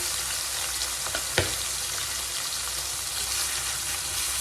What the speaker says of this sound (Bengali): এই মাছগুলো তেলের মধ্যে দিলেই ফাস্ট করে ফুটতে থাকে